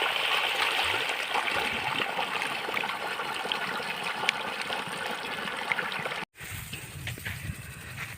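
Water from micro sprinkler irrigation sprays in a steady, broad hiss close by. It cuts out for a moment near the end and then resumes more softly.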